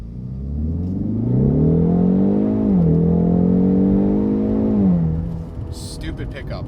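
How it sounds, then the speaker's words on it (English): A 2020 Ford Mustang with the 2.3L EcoBoost engine launches from a stop sign, its engine note climbing steadily as it revs hard through a gear change near the three-second mark. The sound is loud, close and continuous, then eases off at the end. "We're going to do a launch here from the stop sign."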